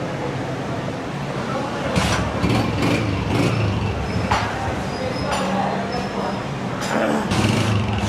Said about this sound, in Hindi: साउंड सुने दोस्तों होंडा 125 को